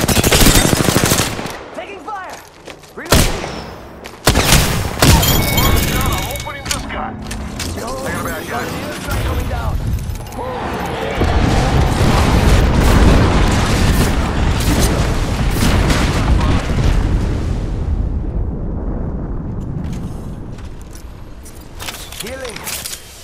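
Heavy machine-gun bursts, single shots and booming explosions in the Apex Legends battle royale game, loud and overlapping, with voices talking over the combat.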